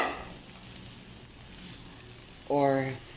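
A sauté mixture of onions sizzles softly and steadily in a pan as the base for a peanut oxtail-and-tripe stew, with a brief voiced sound breaking in near the end.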